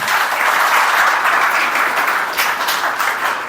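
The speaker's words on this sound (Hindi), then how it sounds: "एक बार ताली बजा दीजिए।" A live motivational talk audience applauds together, a steady wash of dense clapping that stays loud and even throughout, tapering only slightly near the end.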